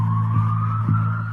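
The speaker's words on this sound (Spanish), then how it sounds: "Esa es una ambulancia." Ambulance siren wailing with a steady high tone over a low vehicle hum, brief and fairly close, no voices.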